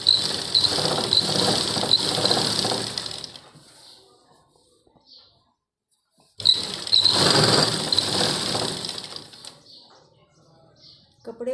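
A sewing machine sews a straight seam down a nighty or maxi dress in two sustained, fairly loud bursts with a quiet gap between them.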